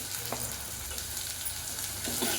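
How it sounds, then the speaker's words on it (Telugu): Green chillies and tomato fry in a pan with a steady, dense sizzle for a few seconds, with faint stirring clicks and no voices. "ఇప్పుడు ఇవి కొంచెం ఫ్రై అయినాక పచ్చిమిర్చి వేసుకోవాలండి"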